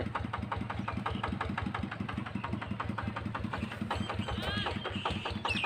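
A Kubota tractor engine idles close by with a steady, rapid low knocking pulse, loud and even throughout, with faint high squeaks appearing near the end.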